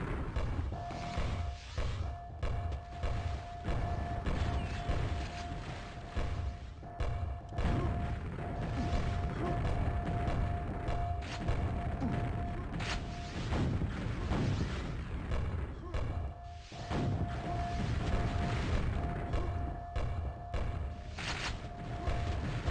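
Rockets and grenades exploding during a QuakeWorld duel, a dense, continuous stream of blasts, thuds and weapon fire mixed with game effects, loud throughout with no voices.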